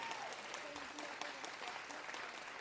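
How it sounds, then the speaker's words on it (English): A live audience at a music livestream show gives a round of applause for a little girl performer, steady dense clapping that is fairly faint and distant throughout. "Let's give little Aspen a big round of applause."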